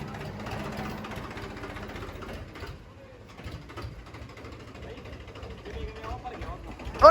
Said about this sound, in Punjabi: ਉਹ ਭੋਲੇ ਨੂੰ ਟਰੈਕਟਰ ਆਉਂਦਾ ਏ